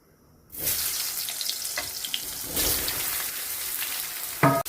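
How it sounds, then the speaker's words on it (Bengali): Turmeric-coated brinjal pieces go into hot oil for pickle and burst into a loud, steady sizzle after a quiet start, with a second surge of frying midway and a brief clatter near the end. "এবারে আমি হলুদ মাখানো বেগুনগুলোকে তেলের মধ্যে ছেড়ে দিচ্ছি"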